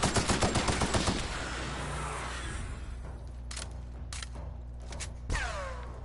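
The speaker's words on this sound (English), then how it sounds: "This is the heavy gun." Heavy gun fired in The Outer Worlds: a rapid burst of loud, rhythmic shots up front, followed by scattered impacts, clanks and a ringing whoosh near the end.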